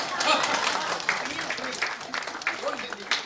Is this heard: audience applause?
yes